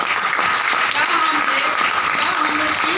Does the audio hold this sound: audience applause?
yes